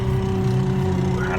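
A 1998 Dodge Neon idles on a cold start at about 5 degrees, with a steady strained whine from the power steering riding over a low engine drone, close and continuous.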